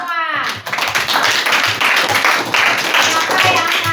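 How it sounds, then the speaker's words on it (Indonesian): Hands clap together in a classroom lesson, a brisk, uneven burst of many people clapping at once that starts after a short pause, with children's voices mixed in. "Tepuk tangan untuk kita semua."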